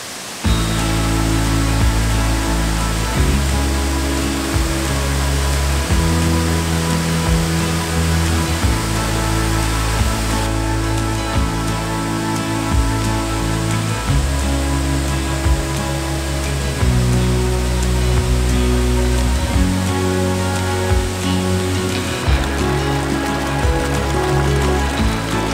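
Waterfall on the Four Waterfalls Walk in South Wales' Brecon Beacons, a loud, steady rushing roar of falling water, close by and continuous with no voices.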